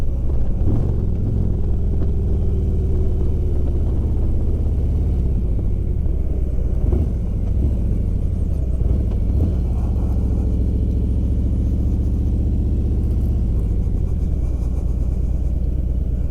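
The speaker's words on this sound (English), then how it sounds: "I'm going to start to decelerate. I'm going to match my revs with my downshift." Motorcycle engine carrying a rider and passenger slows for a turn, its steady low rumble rising in brief revving blips between downshifts, loud and close throughout with no talk.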